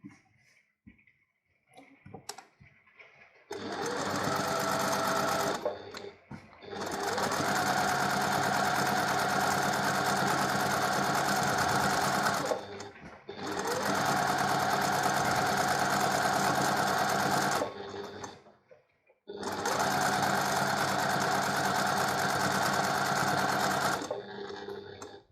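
Half square triangles of fabric feed through a sewing machine in three long, loud bursts of rapid stitching. Short silences and a few faint clicks separate the bursts.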